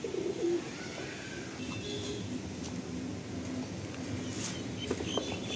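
Pigeons in a Kolkata loft of Giribaj Kalasabuj birds coo softly and steadily over a continuous background hum, with a few faint chirps scattered through.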